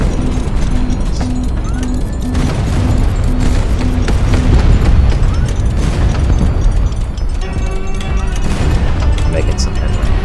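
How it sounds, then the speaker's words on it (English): A missile barrage pounds a mech in a video game with dense, continuous booms and bursts, loud and close, overlapping with mechanical clatter while a voice talks over the action. "if I could outlast the missile barrage"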